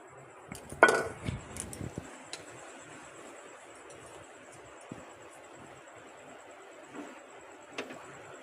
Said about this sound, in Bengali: আমি এবার ঢাকাটা খুলছি, খুলে দেখছি।